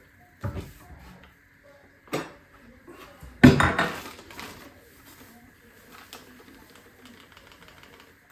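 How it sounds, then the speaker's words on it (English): Semolina and flour being mixed in a bowl for sourdough: a few scattered clinks and knocks from the bowl, one louder clatter partway through, with quiet gaps between them. "I'm going to mix some semolina"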